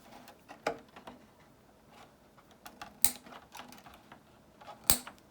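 Pieces being cut during a Lexan RC car body repair, three sharp, crisp snips spaced a couple of seconds apart over faint handling noise.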